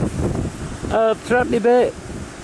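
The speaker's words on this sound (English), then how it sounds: "Oh, that wind is unreal. Blowing me over." Gusty wind buffets the microphone with a low, rumbling roar on an open hillside farm field in the UK while someone speaks briefly over it.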